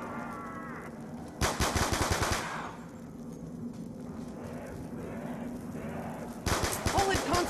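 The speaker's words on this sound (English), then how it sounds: "Bullet conservation, Marlton! Bullet conservation!" Bursts of automatic gunfire from the video game Black Ops 2 on PS3, two loud volleys at the start and end with a quieter rumbling stretch of game sound between them.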